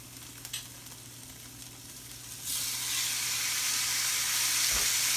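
A rib eye steak sears on a hot grill, its steady sizzle jumping sharply louder partway through as more meat hits the surface, then holding a broad, continuous hiss close by with no talk.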